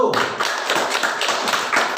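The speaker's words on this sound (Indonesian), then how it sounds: "tepuk tangan untuk kelompok 1" A classroom group claps for the first student team after its presentation: a brief burst of quick, fairly close hand claps with light tapping, steady for about two seconds.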